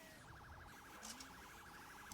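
A police car siren in the Roblox game wails in a fast, even up-and-down warble, faint and steady, then ends in a sudden loud thump.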